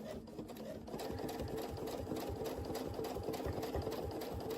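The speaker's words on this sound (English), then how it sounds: "So we're going to go ahead and keep stitching around this little corner here now." A sewing machine stitches steadily for the whole stretch as a quilt is sewn using ruler work, with a close, continuous rapid needle rhythm and no pauses.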